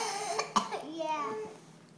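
A child coughs sharply twice in quick succession, close and fairly loud, followed by brief child vocalizing and faint background sounds indoors.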